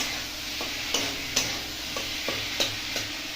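Boiled potatoes stir-fried with cumin and spices in a pan: a steady sizzle with a series of sharp spatula scrapes and taps against the pan, roughly every half second, close and clear with no talk.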